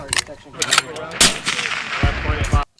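Rifle shots crack out in several sharp, loud reports with echoing tails, the kind heard at an army sniper school range alongside an M107 rifle, and a voice murmurs briefly among them.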